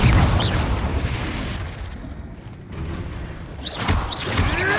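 A Confringo fire spell exploding in Hogwarts Legacy combat: a loud booming blast followed by crackling debris, then a second burst of magical whooshes and impacts, close and heavy.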